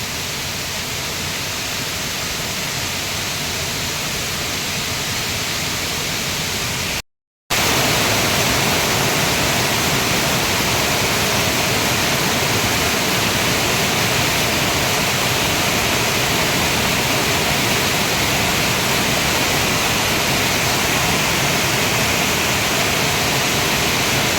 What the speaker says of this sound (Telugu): చూడండి ఫ్రెండ్స్, ఎంత పెద్ద వాటర్ ఫాల్స్ ఇక్కడ